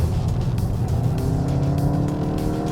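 A 2022 Volkswagen Golf GTI R-Line accelerates on the Sepang International Circuit, its engine droning steadily with rising harmonics from inside the cabin, with no voices over it.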